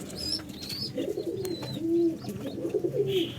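Pigeons coo in repeated low, throaty phrases at close range, with a few faint higher chirps and a brief wing flap mixed in; no one speaks.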